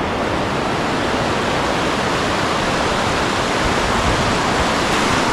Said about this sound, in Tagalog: Yung lagas-las ng tubig.